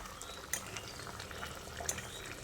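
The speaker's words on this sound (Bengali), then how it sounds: "তো দেখুন 2 মিনিট আমি ঝোলটাকে ফুটিয়ে নিয়েছি। এবার আমি এর মধ্যে ডিমের ধোকাগুলো দিয়ে দিচ্ছি।" Curry gravy simmers with a steady soft bubbling hiss as egg dhoka pieces go in, with a couple of faint splashes or clinks over the constant low boil.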